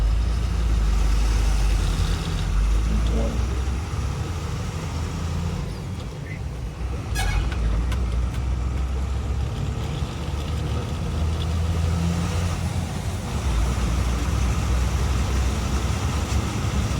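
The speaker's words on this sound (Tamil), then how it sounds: "எவ்வளோ டிராஃபிக் இருக்கு" Heavy road traffic on a route in Kerala, a steady close wash of car, truck and bus engines idling and moving, with no distinct horn blasts standing out.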